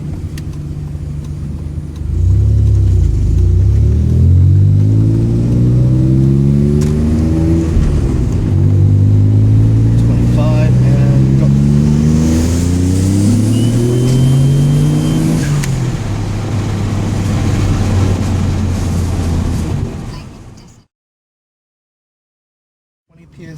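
A 1996 Dodge Stealth R/T twin turbo making a hard second-gear pull, the engine note climbing loudly and close through repeated rising sweeps with shifts between, then cutting off abruptly to silence near the end.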